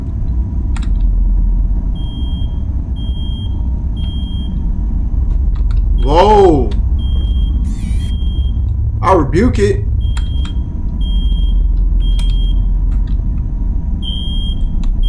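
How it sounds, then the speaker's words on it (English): A video game alarm beeps in short repeated high tones throughout, steady and insistent beneath a low rumbling background, while someone talks over it and a couple of louder vocal outbursts break in. "Can't even turn the alarm off."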